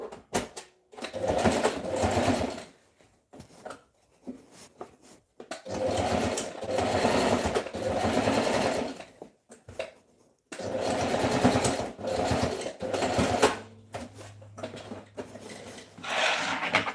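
A sewing machine stitches fabric for a gathered skirt, running in three long bursts of steady mechanical whirring separated by short pauses, close and clear with no talking.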